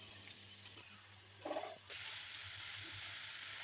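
Grated carrots drop into fully melted ghee in a wok for gajar halwa, giving a brief rustling splash followed by a faint, steady sizzle of frying.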